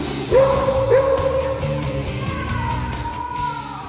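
A rescue dog in a search training exercise at a disused brewery in Gießen gives a few yipping barks and whines, fairly close, over a continuous background hum.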